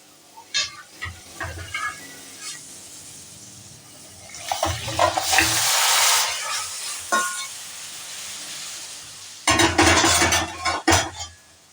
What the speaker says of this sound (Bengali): আস্তে আস্তে করে অল্প অল্প করে ডাল ঢেলে দেবো না হলে আমার গায়ের ওপরে ছিটে চলে আসবে